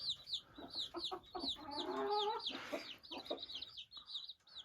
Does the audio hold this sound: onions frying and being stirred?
no